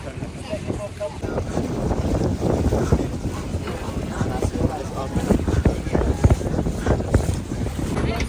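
Catamaran sailing at sea, with continuous gusty wind buffeting and water rushing against the hull, steady and fairly close, with faint voices at times.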